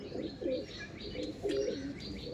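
Andhra pigeons coo softly in a loft, repeated low throaty coos in a gentle rhythm with faint higher chirps over a quiet background.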